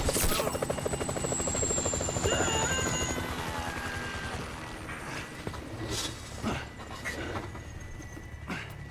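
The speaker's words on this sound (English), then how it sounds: "Can you hear that? Chopper, incoming." A helicopter in Grand Theft Auto, its rotor thumping loud and close at first with a sweeping whine, then fading under scattered game effects.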